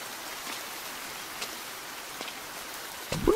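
Steady rain in the horror video game The Bathhouse: Restored hisses evenly throughout, with a few scattered drop patters and a short heavier splash right at the end.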